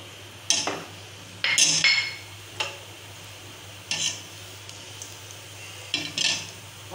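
Cumin seeds drop into a tablespoon of hot oil and get stirred around the pan, bringing a few scraping, clinking spoon strokes over a low sizzle, with no one speaking.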